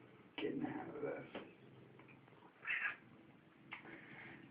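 A cat meows several times up close, short plaintive calls spread across a few seconds over a low indoor background.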